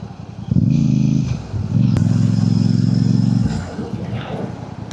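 Royal Enfield motorcycle engine, a Super Meteor 650 or Hunter 350, revving hard in two long sustained bursts while climbing a hill on a cloudy morning ride, close and loud with wind and road noise between.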